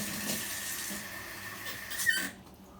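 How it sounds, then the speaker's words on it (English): Lukewarm water runs from a kitchen tap in a steady hiss while preparing a homebrew wine kit, swelling briefly near the end before cutting off into quiet. "I'm going to use lukewarm water, that's the way it dissolves."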